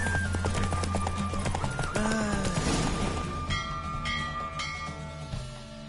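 A horse gallops in The Witcher 3 with fast, close clip-clopping hooves that drive steadily under game music and ambient noise, and a brief clatter partway through.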